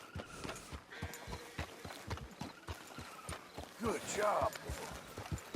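Horse hooves clip-clopping at a steady walking rhythm in Red Dead Redemption 2, close and distinct, with a brief snort or whinny midway and a voice speaking over it.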